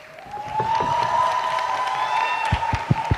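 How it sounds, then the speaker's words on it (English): A debate audience at a national university championship grand final breaks into applause, a swelling wash of clapping that holds for a few seconds and ends with a few sharp individual claps. "Give yourself a round of applause"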